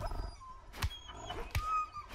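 A wolf in the video game H1Z1 gives short whimpering yelps and yips, two sharp bursts standing out over low rumble and faint background noise.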